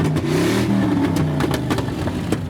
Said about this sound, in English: I think we have the V8 Rolls-Royce rolling through